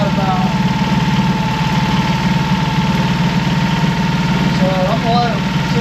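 A Mercury 25hp four-stroke EFI outboard engine idles steadily nearby with a constant low hum and vibration, a voice speaking briefly over it near the end.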